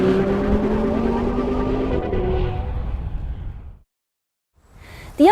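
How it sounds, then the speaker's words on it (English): An Audi RS Q3's exhaust in sport mode roars loudly with rising engine tones, then fades away to silence before a brief new burst of sound at the end. "slip the transmission into S, and they'll open up the exhaust more,"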